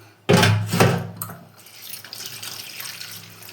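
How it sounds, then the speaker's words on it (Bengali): Drumsticks (moringa) are washed in water, with a loud splash and swish at the start, then softer sloshing and dribbling trailing off, close by and with no voices. "চলো সজনেটাকে ধুয়ে নিই"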